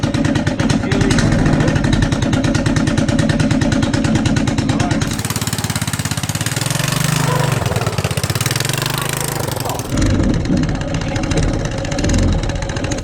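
Honda ATC Big Red three-wheeler engine running outdoors, a loud steady chugging idle that revs up midway, then settles back into a rhythmic idle.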